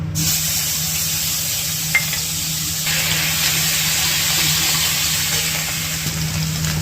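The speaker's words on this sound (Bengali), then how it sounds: "এবার আমি এই তেলেই জিরে দিলাম একটা শুকনো লঙ্কা দিয়ে দিলাম দিচ্ছি আমি আদা" Cumin seeds, a dried red chilli and ginger frying in hot oil left from frying vegetables: a steady, close sizzling hiss throughout, with one small tap partway through.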